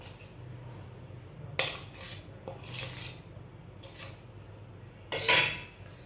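A spoon clinks and scrapes in a pan while warmed dates are added and mixed in. The scrapes come in short, fairly close bursts against a quiet background.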